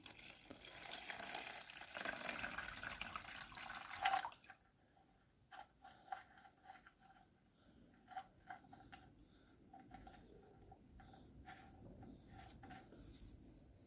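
Water pours in a steady close stream from the sump drain of a VW 2.0 16v 9A engine, then tapers off into scattered drips and trickles falling into a container.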